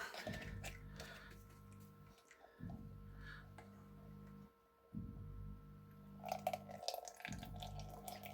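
Sanitizer liquid drains from a home-brew beer keg line into a jug, a faint trickle and drip sounding alongside repeated low humming bursts of a pump or fridge, with no talk.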